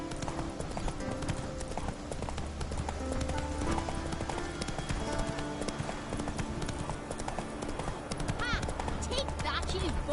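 Roach, Geralt's horse in The Witcher 3, gallops with rapid, continuous hoofbeats close by, mixed with game music and effects while someone talks over it.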